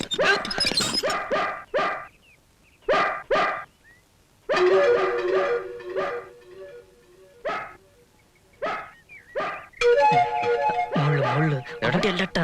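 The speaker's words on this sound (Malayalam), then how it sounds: "ചേട്ടാ പട്ടി കടിക്കോ? ഒരയ്ക്കുന്നോണ്ട് ചോദിച്ചതാ." A dog barks at a house gate in short, loud, repeated bursts, some with yips and whimpers, while people talk between and over the barks.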